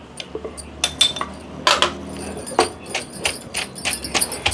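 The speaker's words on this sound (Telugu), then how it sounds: "దీన్ని కూడా మళ్ళీ కొంచెం కచ్చా పచ్చగా దంచుకుందాం" Coconut pieces and raw mango being pounded in a stone mortar for a rustic chutney, with irregular sharp knocks and clinks of the pestle, close and fairly loud, alone without talk.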